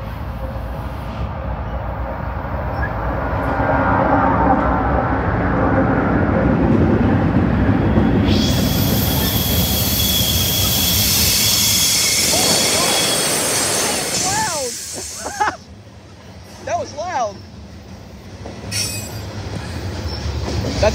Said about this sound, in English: it's Aiden Train 21 here with another CSX southbound. And it's two engines. Looks like it's a dumpster train this time.